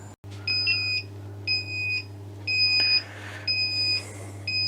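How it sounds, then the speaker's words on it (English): A Grainfather all-in-one brewing system sounds its alarm when the mash out finishes: a series of bright, evenly spaced electronic beeps, each lasting about half a second, over a constant low hum from the unit. "Mash out's finished. Okay, I'll stop the beep."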